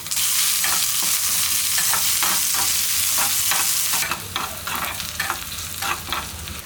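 Shallots sautéing in a hot pan for tomato chutney, a steady loud sizzle with repeated scraping stirs that soften slightly toward the end.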